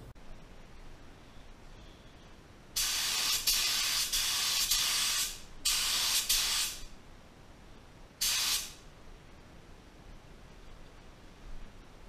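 Spray gun laying a coat of Dodge Hellraisin metallic paint: three separate bursts of steady hiss, two long and one short, close and loud against a quiet background, with no one talking.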